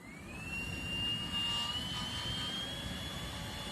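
Small engine revving steadily on a coconut shell wood gas generator, a continuous loud drone with a rising whine that holds high throughout, no talking.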